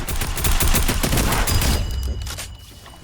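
Rapid bursts of gunfire fill a John Wick bounty shooter game, loud and dense for about two seconds before trailing off into quieter reverberation.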